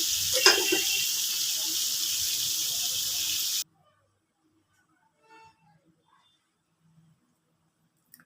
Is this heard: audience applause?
no